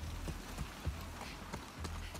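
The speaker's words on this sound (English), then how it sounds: "Hey, a horse." A horse in The Last of Us Part 2, its hooves clopping in a steady, evenly spaced rhythm at moderate distance beneath a constant low background rumble.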